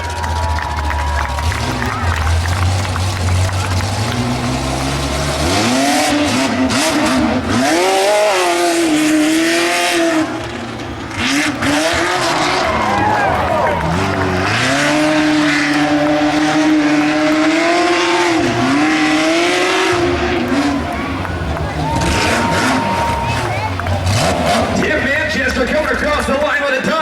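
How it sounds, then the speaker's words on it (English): A tuff truck tears around a speedway obstacle track, its engine revving and roaring loudly in rising and falling surges for the whole stretch, with crowd noise and an announcer's voice underneath. "it is the West Coast Tuff Truck Champion and your current leader, our final truck, Tim of Manchester."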